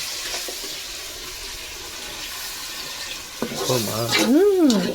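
After a few seconds of low background noise, water splashes and gurgles as it is poured into a pot for country chicken rasam, with a voice briefly audible over it.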